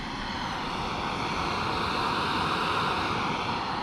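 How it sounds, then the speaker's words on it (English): A steady, loud roar with broad hiss fills the clip, a camp stove burning under a pot of water beside a forest trail, with no voices. "as you can probably hear, I decided to stop and boil my water."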